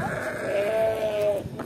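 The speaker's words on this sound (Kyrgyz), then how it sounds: "Жаш эчкилер, текелер." A single drawn-out bleat from young goats and billy goats at the Sokuluk livestock market, lasting about a second over a steady murmur of market noise.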